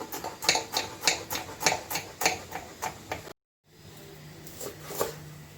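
Knife chopping fresh coriander on a cutting board for egg bhurji, a quick, even run of crisp close taps, a brief silence, then a few sparser chops.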